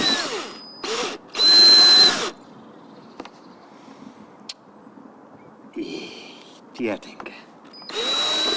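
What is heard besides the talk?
power drill drilling through van wall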